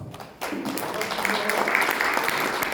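An audience at a Korean maritime union forum breaks into applause after a sharp start, a steady wash of clapping that holds at even strength throughout.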